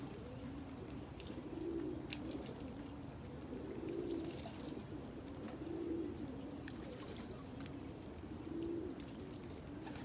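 Pigeons or doves coo in slow repeated phrases, about four low rounded calls spaced a couple of seconds apart, moderately near, over a soft steady wash of rain on a wet Sunday morning.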